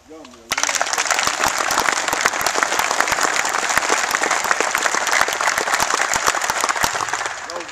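A camp crowd at a Duke University quarterback camp breaks into sustained applause for a coach, dense clapping starting abruptly after a brief murmur of voices and holding steady to the end.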